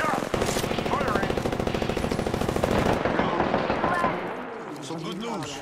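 Rapid automatic gunfire in the Apex Legends video game, loud sustained bursts with an in-game character's voice talking over and after the shooting as the firing fades.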